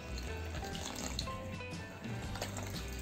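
Water poured from a cup into cornflour in a bowl while making Bombay Karachi halwa batter: a continuous, soft trickling and splashing stream, fairly quiet, with no talk over it.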